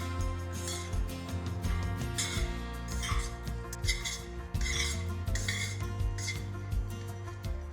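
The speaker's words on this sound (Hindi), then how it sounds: "इन सारी चीज़ों को अच्छे से मिक्स कर लेंगे।" Dry fruit mixture with cardamom powder being stirred in a bowl, steady scraping and rubbing of a utensil against the bowl with faint clinks, close and continuous without talk.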